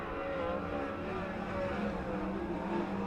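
A sprint race car at Grays Harbor Speedway roars wide off the final corner to take the green flag, its engine a loud, steady, unbroken drone lasting the full stretch.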